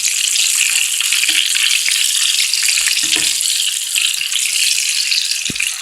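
Chicken nuggets frying steadily in hot oil, a loud continuous hiss and crackle throughout, with a few soft knocks as pieces are turned in the pan.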